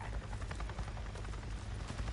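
A NERO helicopter in a video game buzzing overhead, a dense, steady rotor drone with low thumping, fairly quiet and continuous throughout, with no talking.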